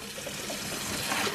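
Water running from a shower tap, a soft steady spray with a faint splashing texture, quiet and continuous without talk.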